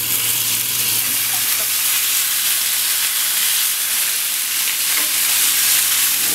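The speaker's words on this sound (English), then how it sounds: "We start cooking the pork first." Pork sizzles and fries steadily in a hot pan, a loud continuous hiss with faint stirring clicks, no voices.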